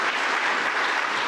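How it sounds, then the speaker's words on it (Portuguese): A hall stands and applauds at a ceremony as former president José Eduardo dos Santos is named, a loud, dense burst of clapping from many hands in one brief, unbroken roar. "a sala que, em pé e efusivamente, ovacionou com palmas e gritos"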